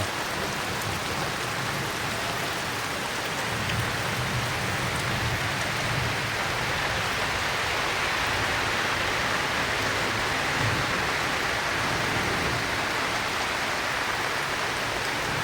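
First monsoon rain falls on a Ratnagiri village as a dense, steady, close hiss of drops on surfaces, unbroken for the whole stretch with no voices.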